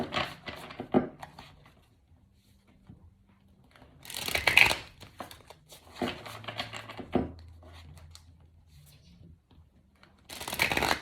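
Tarot cards are shuffled in several bursts of riffling and flapping, close and clear, with quiet pauses and faint fumbling between them.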